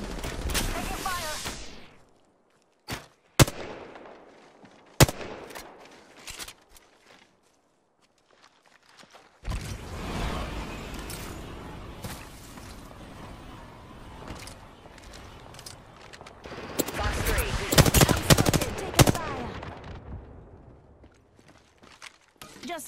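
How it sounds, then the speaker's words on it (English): Weapon fire in the battle royale shooter Apex Legends: a few sharp isolated shots early on, then a longer stretch of busier firing and movement that peaks in a loud cluster of bursts near the end. "Taking fire!"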